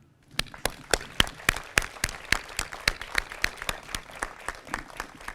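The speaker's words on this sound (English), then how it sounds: "Please give them a round of applause" Audience applause for soldiers at a military change of command ceremony for the 110th Chemical Battalion: steady, evenly paced clapping from a modest crowd, clear and close, with each clap standing out and no voices over it.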